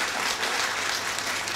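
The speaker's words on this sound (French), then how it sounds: "Je vous demande d'applaudir la fermeté" A brief burst of steady, dense audience applause at a French-language gathering, continuous clapping at moderate level with no pauses.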